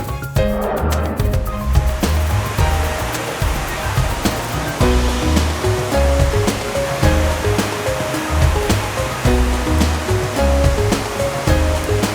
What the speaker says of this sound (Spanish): aquí si vienes puedes encontrar una cascada grandísima